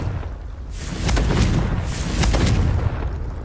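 Confringo blasting spell going off in Hogwarts Legacy on PC: two heavy, booming explosive bursts about a second apart, loud and close, with a rumbling low-end roar and crackling blast texture throughout.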